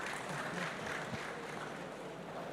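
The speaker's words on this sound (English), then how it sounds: "Let's welcome the panel with a round of applause" Steady, faint applause from a conference crowd welcoming a panel fills the whole stretch, an even wash of many hands clapping at a distance.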